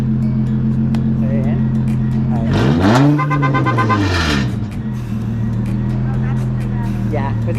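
A race car engine idles with a loud, steady rumble, then revs sharply up and falls back before settling into the same close, heavy idle.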